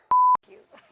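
A single loud censorship bleep tone, steady and pure, lasting about a quarter second over swearing on a TV comedy show, followed by faint talking.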